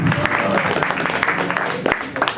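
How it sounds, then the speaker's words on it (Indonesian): An audience at a stand-up comedy show applauds for Lesan Surya, a short burst of dense clapping with crowd noise and voices mixed in. "tepuk tangan buat Lesan Surya"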